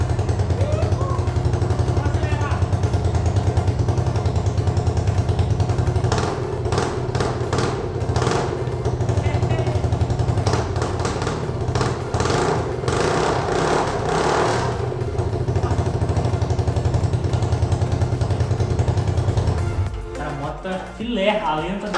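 A Mini Lancer minibike fitted with a 250cc engine starts up and idles: a loud, close, continuous engine rumble with a few rhythmic revs mid-way, then settling before briefly changing near the end.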